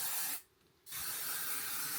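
A Techniart Fix anti-frizz hair spray gives two hissing bursts close by, a long spray broken by a brief pause and then a steady second spray that fills the rest.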